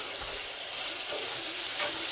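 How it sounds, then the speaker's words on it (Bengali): Potatoes frying in a pan with a tempering of dried red chilies, giving a continuous close hiss and sizzle with faint stirring and no talk. "আর শুকনো লঙ্কা ফোড়ন দিয়েছি আলু ভাজায়, দিয়ে ভাজা করছি"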